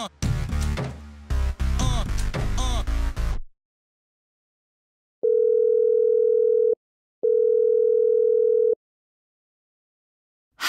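A telephone dial tone sounds in two steady, evenly spaced bursts, loud and clean, after music fades out at the start of a call being placed.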